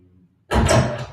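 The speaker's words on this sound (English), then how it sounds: "All the bedroom door sound." A bedroom door sound effect for sound design: after a brief low hum, a single sudden, loud, full-bodied door slam or thud hits and then rings out briefly.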